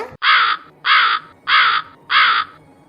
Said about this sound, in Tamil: அடடே ரெண்டு காக்காயா நல்லா அழகா இருக்கு